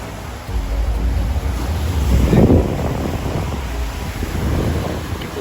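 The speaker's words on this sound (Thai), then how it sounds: "ลมแรง" Strong stormy wind buffets the microphone while sea waves crash and roll onto an island beach on Ko Samet during a storm, a loud steady roar with a surge near the middle.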